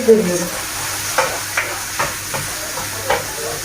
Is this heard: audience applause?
no